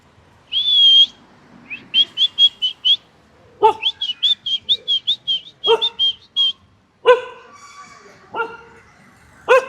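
Dogs, a Rottweiler and a German Shepherd, bark in several loud, separate bursts through the second half, preceded by a run of rapid high chirping or whistling notes.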